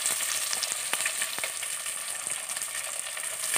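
Onions and shallots sizzle in hot oil for a bitter gourd theeyal, a steady close frying hiss punctuated by sharp clicks of stirring, without talking.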